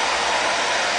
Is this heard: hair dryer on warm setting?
yes